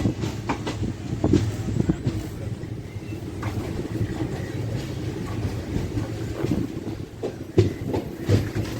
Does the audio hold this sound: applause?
no